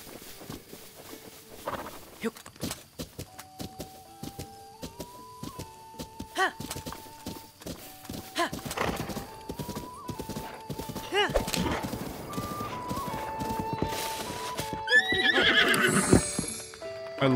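A horse in a video game clip-clops along at a walk and lets out neighs, with hoof beats repeating steadily alongside stepped musical tones and other game sounds that grow busier toward the end.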